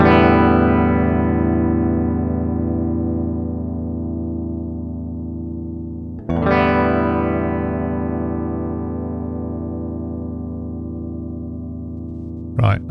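An electric guitar plays through a JOYO DC-15s practice amplifier set flat. Two sustained chords each ring out and slowly fade, with a brief string noise at the end and no voice over them.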